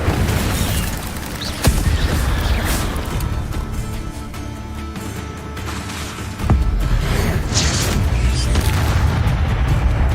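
Incendio fire spell cast in Hogwarts Legacy: loud whooshing bursts of flame with sharp impacts and crashes, two strong hits standing out amid continuous game noise.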